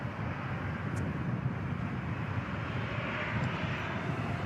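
A Jet2 Airbus A330 airliner from Palma de Mallorca at Manchester Airport on a windy day, a steady broad engine roar, loud and continuous throughout.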